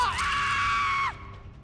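A survivor in the video game Dead by Daylight lets out one loud, sustained high-pitched scream lasting about a second, then it cuts off abruptly, leaving quiet game ambience.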